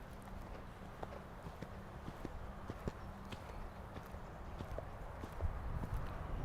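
A horse canters in a show-jumping training session, its hoofbeats landing in a steady three-beat rhythm of soft thuds on the ground, faint and somewhat distant against a low background hum.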